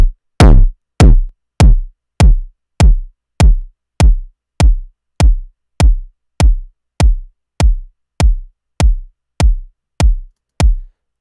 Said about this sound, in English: It gets that first section distorted in a good way so that it has this good, strong, clicky sound.